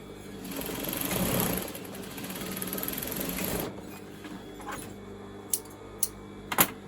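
Sewing machine stitching a centimetre seam on scrunchie fabric, a steady whirring run that stops after a few seconds, followed by quiet handling clicks.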